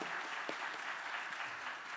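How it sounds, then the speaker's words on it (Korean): Church congregation clapping in encouragement during an afternoon service, a soft, steady patter of many hands at a distance, with a voice starting at the very end. "우리 나오실 때 박수, 격려 박수 부탁드립니다"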